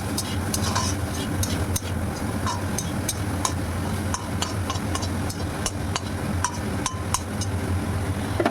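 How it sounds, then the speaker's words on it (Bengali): Boiled chicken with vegetables and salt being stirred in a pan, with a steady run of scraping and clinking utensil strokes over a constant low hum and soft sizzle. "লবণ অ্যাড করে ভালোভাবে নেড়েচেড়ে মিশিয়ে দিচ্ছি।"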